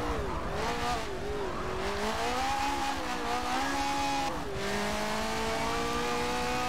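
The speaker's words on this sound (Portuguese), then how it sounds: "Olha até onde vai o giro, velho. Vai até 11 mil giros" Single-seater race car engine in the Forza Motorsport 7 video game, screaming at high revs with rising and falling pitch through gear changes, continuous and loud with faint tire squeal.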